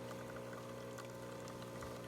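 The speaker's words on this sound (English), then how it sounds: "the coffee's coming out now" A Jura Impressa coffee machine dispensing coffee, its pump humming steadily with a trickling pour of liquid, quiet and continuous, no talking.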